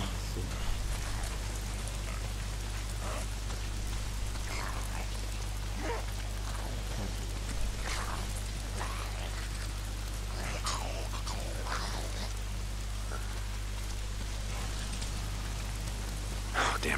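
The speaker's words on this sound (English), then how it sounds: "Why is it always raining?" Steady video game rain in Days Gone patters and hisses over a low constant hum, with scattered drips and splashes standing out now and then.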